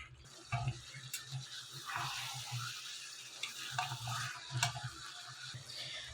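Fried boiled duck eggs and potatoes stirred together in masala in a pan. Quiet, uneven scraping strokes and soft knocks sit over a low sizzle, with no speech.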